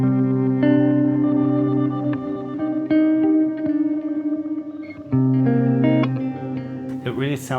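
A guitar played through a pedalboard on a hazy ambient setting, with delay and reverb switched off, rings out in sustained, shimmering chords that shift every second or two.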